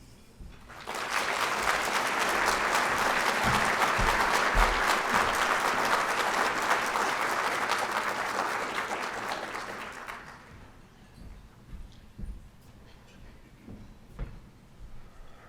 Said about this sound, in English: One more round of applause for Dr. Geary Cox.